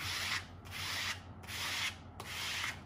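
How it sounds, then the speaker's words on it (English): Dry adhesive collage paper for encaustic monotype is burnished by hand. It makes four even rubbing strokes, a close, soft scraping that swells and fades with each pass, with no voice. "I'm just going to give it a burnish."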